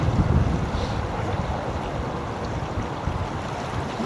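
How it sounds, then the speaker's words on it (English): Strong wind buffets the microphone on a lake during sailboat tests, a dense continuous roar with water wash underneath and no talking. "there's such a high wind now"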